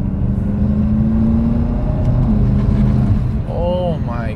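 A BMW F10 M5 pulls hard with a loud, sustained engine roar from inside the cabin, the pitch climbing toward the end as it accelerates.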